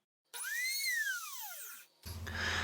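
A rotary tool fitted with a burr bit carves a metal branding iron, giving a close, high whining spin that rises and falls in pitch, then a brief rough grinding burst.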